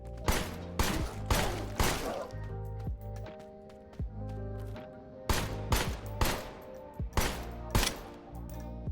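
Gunfire in a video game rings out in sharp, loud bursts of rapid shots, clustered volleys separated by brief pauses over a low sustained musical drone.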